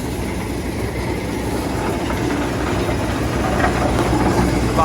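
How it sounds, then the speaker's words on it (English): A big Merlo screener's vibrating deck shakes topsoil and branches, giving a steady mechanical rumble and rattle with an engine drone underneath, continuous and fairly close. "The vibrating deck up there,"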